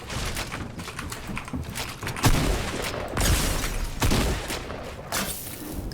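Shotgun blasts in the video game Fortnite, several loud booming shots fired at close range with brief gaps, mixed with clattering game effects and no talking.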